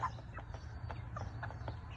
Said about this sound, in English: look at this mass of meat birds. Mixtures of roux and hens.